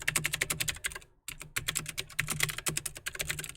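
Rapid typing on a computer keyboard, a close, steady patter of many quick key clicks with one brief pause partway through, then continuing at the same brisk pace.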